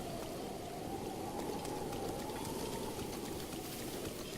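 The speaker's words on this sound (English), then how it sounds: "it's gonna go out because it's raining" Steady rain falling in the Dark Forest area of Breath of the Wild, a constant even hiss of game-world rainfall with a low rumbling bed, no voices over it.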